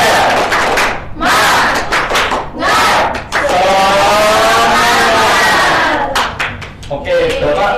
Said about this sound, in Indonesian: Kita es breaking, tepuk semangat ya. Iya, 1, 2, 3, tepuk semangat.